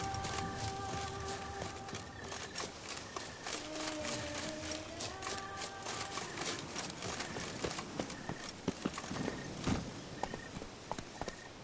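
Steady horse hooves clip-clop in The Witcher 3 at a moderate walking pace, close and clear, with faint musical tones sustained in the background.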